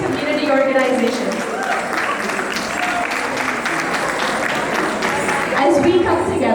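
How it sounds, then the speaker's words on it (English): A room of people at a women's council community gathering applauds the organization's executive with a steady, close round of clapping, while voices talk and cheer over it. "Can we have a round of applause for the wonderful executive of this grassroots community organization?"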